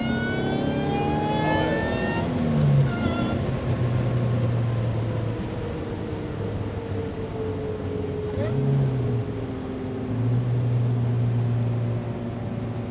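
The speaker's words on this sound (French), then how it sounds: "Ah, le compresseur, il fait vraiment le taf." A supercharged 2.2-litre Opel Speedster engine accelerates with a steady loud drone and rising tones, easing and building again across repeated pulls, heard close from inside the car.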